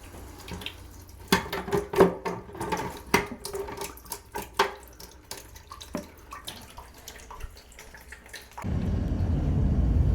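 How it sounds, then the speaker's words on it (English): Water drips and splashes from a loosened toilet supply line into a bucket, giving irregular close taps and plinks before a steady rush of running water takes over at the end. "loosen that and let the excess drip into our bucket or cup or bowl or whatever you have"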